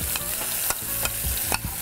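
Chicken and cumin frying in a pan, a dense, steady sizzle broken by a few clattering stirs at uneven intervals, with no talking.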